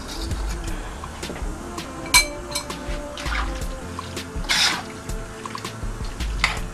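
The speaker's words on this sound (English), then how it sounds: "I'm just gonna mix that in, get it all in the shrimps. Stirring all of that nice flavor." A spoon stirs curry shrimp with milk in a pot for a Jamaican curry shrimp and crabmeat dinner, giving soft liquid sloshing with scattered metallic clinks against the pot, fairly quiet and steady.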